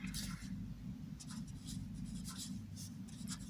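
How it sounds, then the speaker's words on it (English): Pen or marker writing out a logarithm power rule on paper or board, close, soft scratchy strokes in short bursts with pauses between them. "I'll write the power rule here."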